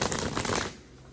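A deck of tarot cards is shuffled up close, a dense papery riffling burst for most of a second before it cuts off into quiet room tone.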